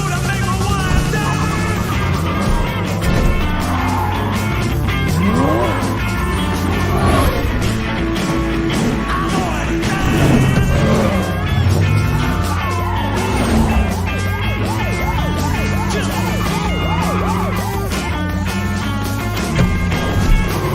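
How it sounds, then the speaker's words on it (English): A movie car chase with cars racing and crashing: continuous loud engine roar, revving and tire noise filling the scene, with dense, busy mixed sound throughout. "let's look at a good car chase, shall we?"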